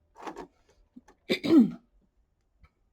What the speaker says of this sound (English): I'm going to have to clear my throat a little bit